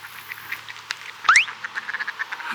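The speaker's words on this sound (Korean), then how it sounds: "오리 되게 많다" Ducks call in brief, repeated bursts, one louder honk near the middle, heard outdoors on an autumn day in Toronto with no talk over them.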